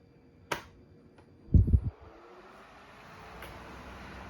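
Galaxy electric fan switched on at high speed: a click and a brief clunking startup thump, then a steady low motor whir and airflow hum that builds quietly.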